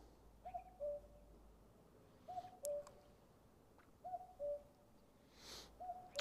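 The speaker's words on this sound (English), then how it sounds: "I love that bird" A bird calls outdoors on a quiet morning in Dali, China, giving repeated hooting two-note calls in a steady rhythm at moderate distance against faint ambient hush.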